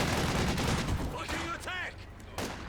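Machine gun suppression fire from a DShK in a Company of Heroes 2 match, dense rapid bursts rattling over battle noise with scattered other gunfire, while a voice calls out briefly partway through.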